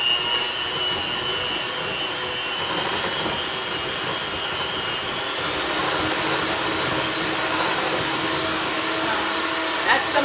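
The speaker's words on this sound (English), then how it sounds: "gonna whisk the egg and vanilla extract into our creamed butter and sugar" An electric mixer whisks egg and vanilla extract into creamed butter and sugar for oat flour chocolate nut cookies, a steady, even whirring drone running the whole time with no break.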